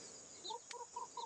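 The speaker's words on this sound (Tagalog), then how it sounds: "Maraming mga manok ko." Farm chickens cluck in a few soft, short calls over a quiet, faint outdoor background in a rural field.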